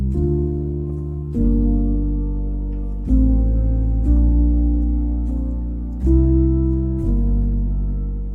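Sustained piano chords in an orchestral downtempo style change every second or so, each new chord struck clearly and left ringing full and warm over a steady low bass, with no voices.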